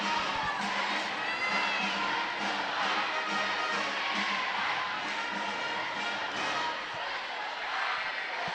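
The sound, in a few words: crowd cheering for cheer squad at basketball game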